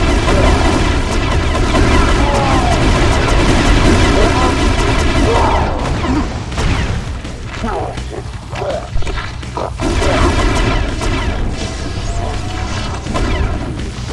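An overpowered secret weapon fires a charge shot in the Wii shooter The Conduit, a loud roaring, booming blast that sustains with heavy rumble and crackle, dipping briefly before surging again.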